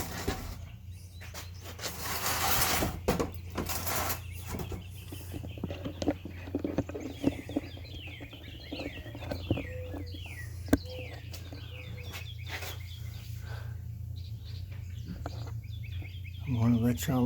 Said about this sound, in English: let y'all listen to them for a few minutes.